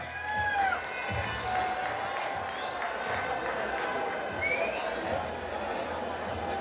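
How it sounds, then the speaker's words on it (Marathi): Spectators at the Ratnagiri Champions Trophy 2022 cricket match, Best of Raigad vs Rest of India, make a steady wash of crowd noise with scattered clapping, cheers and a few whistles throughout. "एकदा टाळ्यांचा जोरदार गजर करा, जोरदार टाळ्यांचा गजर येऊ द्या."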